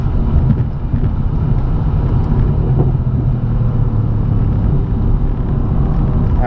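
Engine of a 2017 Mercedes C63 AMG S Coupe or 2017 BMW M3 sports car pulling hard on a straightaway, a steady, loud low rumble heard from inside the cabin throughout.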